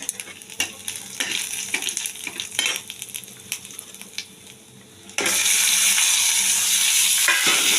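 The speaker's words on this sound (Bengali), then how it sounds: "দেবো তেজপাতা দেবো জিরে ফোড়ন দিয়ে দেবো একটু আদা ফোড়ন" Bay leaf, cumin and ginger are dropped into hot oil in a pan; clinks and stirring taps come first, then a sudden loud, continuous sizzle bursts up and holds steady.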